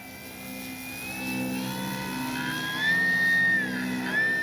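An FGFRC 3X Flex RV8 60E electric RC airplane flies past, its motor whining steadily and rising in pitch as it draws closer and louder, with light wind noise and no talk.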